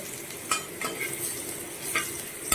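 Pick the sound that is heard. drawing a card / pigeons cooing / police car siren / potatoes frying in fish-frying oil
potatoes frying in fish-frying oil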